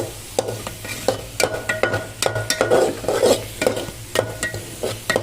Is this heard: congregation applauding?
no